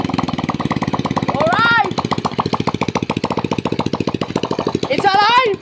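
A Motorstar motorcycle pulled from a junkshop runs after a CDI install, its engine putting out a rapid, choppy exhaust chatter with revving surges. Excited voices shout over it.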